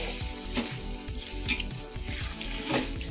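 Dates being stirred and mashed in ghee in a pan while making khajur pak, a steady frying sizzle broken by repeated scraping strokes of the spoon, close and fairly loud with no talk.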